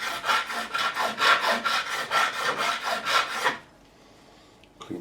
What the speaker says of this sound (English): And then I will finish off with the crowning file.